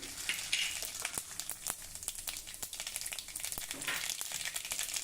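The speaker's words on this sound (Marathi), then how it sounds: "तेल गरम झालं की त्यामध्ये थोडे मेथी दाणे घालूया चिमूटभर जिरं आणि मोहरी" Fenugreek seeds, cumin and mustard seeds fry in hot oil for a Vidarbha-style red pumpkin curry, giving a dense close sizzle with scattered sharp pops and crackles throughout.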